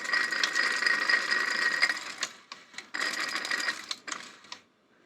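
National NV-300 VCR tape mechanism rewinding, a close, steady mechanical whir and rattle that runs for about two seconds, then cuts out and restarts in several short bursts before stopping.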